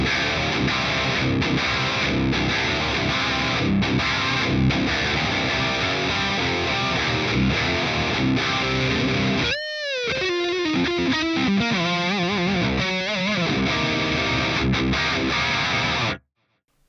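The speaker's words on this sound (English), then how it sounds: "I am playing my wonderful PRS McCarty from 2006." A 2006 PRS McCarty electric guitar fitted with Fishman Fluence Classic pickups, played through an Axe FX3 on its Mesa Mark IV amp model, delivers a loud driven lead line that cuts out briefly midway, resumes with ringing bent notes, then stops abruptly.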